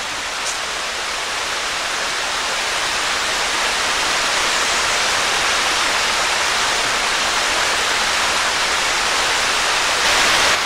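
A loud, constant rush of falling water at Keyser Run Falls in Shenandoah National Park, a steady broadband roar with no pauses, close by.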